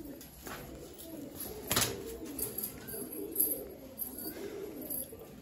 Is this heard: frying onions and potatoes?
no